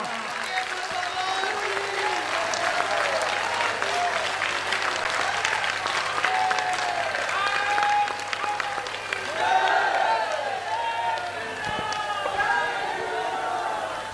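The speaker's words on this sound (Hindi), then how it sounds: "चाहिए तालियां।" Large crowd applause at a Hindu Jodo Yatra event with Bhageshwar Dham, dense sustained clapping throughout, mixed with cheering and crowd voices.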